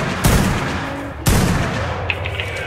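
Two loud, sharp rifle gunshots in Ark Survival Evolved with the Primal Fear mod, about a second apart, each followed by a ringing, echoing decay.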